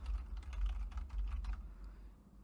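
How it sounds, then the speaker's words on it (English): Fingers tap out a random string of letters and numbers on a computer keyboard in a quick, uneven burst of close keystrokes that tapers off, with a low hum underneath. "If I start typing in a random assortment of numbers and letters,"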